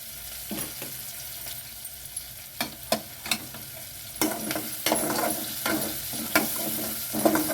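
Onions sauté in an oiled pan for curd sevai, a steady sizzle broken by repeated sharp spatula scrapes and taps against the pan, close and fairly loud, with no talking.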